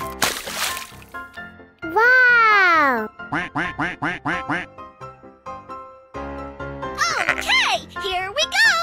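A voice imitates a duck, repeating quacks in a rhythmic series of loud, close, nasal calls, with someone talking and splashy water sounds in between, from a painting-animals setting.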